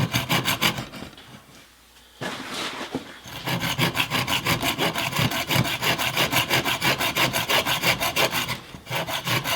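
A Bahco Laplander hand saw rasps steadily through wood in fast, regular push-and-pull strokes, close up, after a brief quieter pause near the start.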